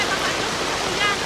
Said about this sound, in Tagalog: Ay, lalong lumakas ang tubig.